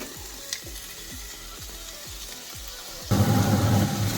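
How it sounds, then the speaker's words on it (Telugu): Cucumber pieces sizzle steadily in a pan, with a rhythmic series of scraping stirs, then tomato pieces drop in and the frying swells into a louder, denser sizzle for the last second. "చాలా అంటే ఈ మాత్రం వేగినాయి కదా, ఇప్పుడు ఈ టొమాటోలు వేసేసుకుందాం."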